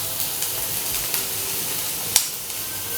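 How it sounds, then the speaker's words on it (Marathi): Chopped onion fries in hot oil in a pan, giving a soft, steady sizzle with faint crackles and one sharp spatter. "आता आपण हा कांदा मऊ होईपर्यंत फ्राय करून घेऊया"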